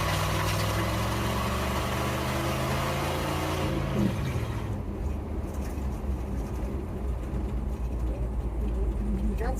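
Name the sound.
loud Ford F100 truck engine running without muffler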